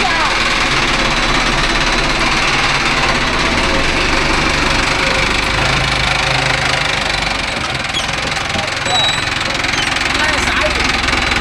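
A Mahindra Arjun Novo 605 DI tractor engine runs loud and steady throughout, pulling a rotavator in farmland, with a continuous diesel drone and knocking rumble that dips briefly midway.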